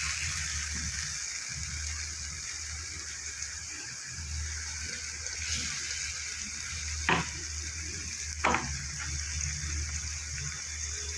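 Spice paste frying in hot mustard-style oil after a black cumin seed tempering, for a bitter gourd masala curry: a quiet, even sizzle with low stirring and two brief sharper pops late on.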